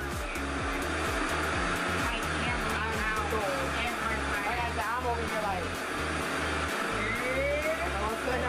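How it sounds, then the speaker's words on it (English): A RevAir reverse blow dryer runs steadily while drying Type 4 hair, its constant whooshing airflow roar holding at an even level throughout with faint shifting tones over it. "this is a blow dryer"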